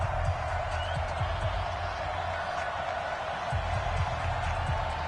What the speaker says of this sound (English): This crowd is ready as their guys get set to match up between our visitors and the Washington Redskins.